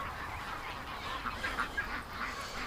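Ducks call faintly and at a distance, their soft honking notes scattered through a steady background hiss.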